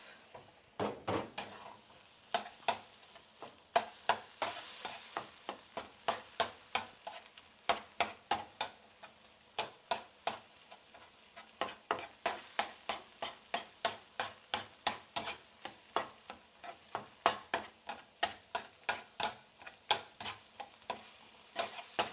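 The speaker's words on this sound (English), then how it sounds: "So you can see the liquid is evaporating. The sound is changing, so soon it's gonna get caramelized." Onions cook in bouillon as the liquid boils away, giving a soft sizzle under regular scraping stir strokes that repeat in a steady rhythm, close and fairly quiet with no voices.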